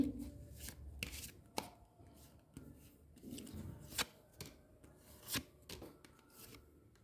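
Tarot cards shuffled by hand during a reading, making soft, quiet riffling and rubbing bursts with occasional sharper slaps at an irregular pace, with no talk.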